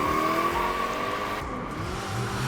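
Street-racing cars from Fast and Furious 8, with a loud sustained engine roar and high revving that shifts pitch as the cars speed along, plus a brief tire squeal.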